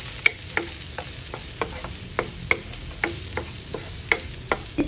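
Bacon frying in a pan for patola soup, a steady close sizzle broken by regular sharp pops and clicks of spatula stirring.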